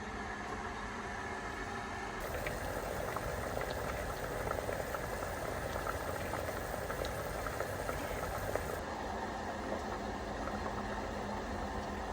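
Spices for mulled wine boiling in a pot give a steady, continuous bubbling hiss at moderate volume that holds evenly throughout without any voices.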